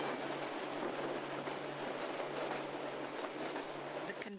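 Train running on new track laid on concrete sleepers with long welded rails, heard from inside as a steady, loud broadband rumble with a low hum and no distinct rail-joint clicks.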